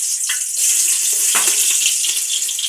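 Onion hitting hot oil, a loud, dense hiss of frying that holds steadily at close range for a few seconds.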